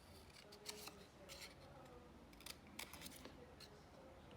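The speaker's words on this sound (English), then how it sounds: "use our scissors to cut out those zigzags" Quiet, crisp scissor snips repeat at an uneven pace, cutting zigzags through paper close by against a soft background hiss.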